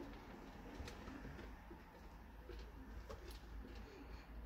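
Pigeons coo softly at a distance during a winter feeding, low murmuring calls set against steady background hum, with no one speaking.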